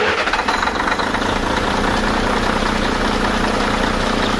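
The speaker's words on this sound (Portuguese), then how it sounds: "O motor funcionou." Scania truck diesel engine running at a steady idle, loud and close, with a rough, even low rumble and faint knocking throughout and no talk.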